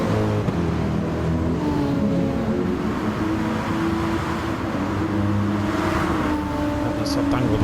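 A GTR race car accelerates hard around the Red Bull Ring in a sim racing game, its steady loud engine drone running under continuous commentary.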